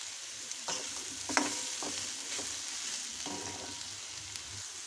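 Spices with turmeric and salt fry in a pan, making a continuous sizzle broken by several spatula scrapes and taps at an uneven pace, close and moderately loud.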